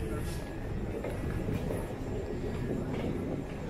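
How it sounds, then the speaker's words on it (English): Vancouver SkyTrain pulling away from a station, a steady broadband rumble of rail wheels and motor that holds loud and continuous throughout, with no clear voices over it. "Just get a look at the train here. Let's just watch it pull away."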